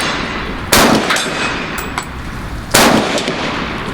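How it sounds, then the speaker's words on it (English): Two sharp, loud gunshots about two seconds apart from a light-recoiling firearm fired outdoors, each with a short ringing tail and no talking. "They're a fun gun to shoot."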